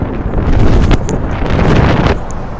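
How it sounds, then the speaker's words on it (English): Blustery outdoor wind buffets a microphone, producing a loud, continuous rumbling roar that swells and eases for a few seconds with no other sounds on top. "The wind is either non-existent or blustery to the max."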